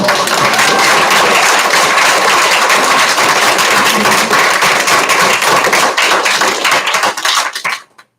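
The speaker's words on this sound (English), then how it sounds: "just wanted to get a round of applause and thank you to Kim" A banquet room of swim and dive team members and guests claps loudly, a dense, sustained burst of many hands that keeps going for several seconds before quickly dying away.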